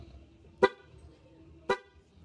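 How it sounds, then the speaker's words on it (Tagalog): A Pia aftermarket horn on a Yamaha Aerox V2 scooter gives two short, sharp toots about a second apart. The sound is moderately loud against a quiet background. "Ito mga tol yung tunog ng ating busina."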